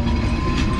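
A train runs along the Hili rail line near Dangapara station on the India–Bangladesh border, heard as a loud, close, continuous rumble of wheels and carriages in one brief burst.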